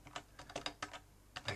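Keys clatter on a computer keyboard while code is entered in an editor, a faint close run of quick uneven taps in small bursts.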